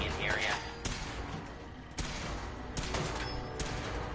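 Gunfire in the video game Fallout 4: a handful of sharp, irregularly spaced shots crack over a dense, noisy combat background, loud and close.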